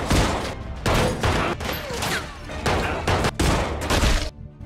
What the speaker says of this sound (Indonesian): hingga aksi tembak-tembakan pun terjadi di sana